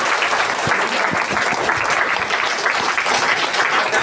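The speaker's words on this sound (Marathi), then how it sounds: "किती कंजूस टाळ्या तरी वाजवा" A church congregation claps steadily and loudly at a Marathi-language faith gathering, a dense, even patter of many hands sustained for about four seconds without a break.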